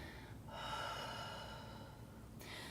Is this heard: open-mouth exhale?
yes